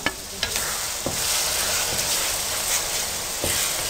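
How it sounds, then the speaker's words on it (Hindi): Spices fry in a vegetable korma gravy with a steady bubbling hiss, broken by a few soft knocks of a spoon stirring the pan; close and continuous without speech. "एक मिनट के लिए आपने इसको भूनना है ताकि मिर्चें वगैरह जले ना"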